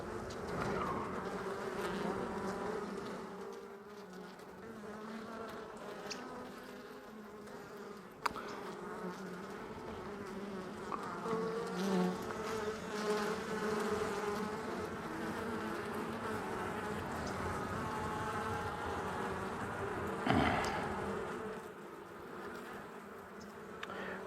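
Swarm of honey bees droning steadily around an opened beehive during a warm January hive check, a continuous close buzz with a few brief knocks and bumps from handling frames.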